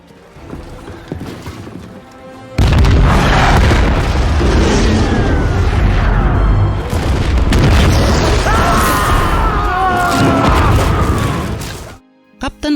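A huge explosion at an oil refinery in a wartime battle scene from the film Stalingrad: a sudden massive boom followed by a long, loud, roaring rumble of burning and debris lasting many seconds before cutting off.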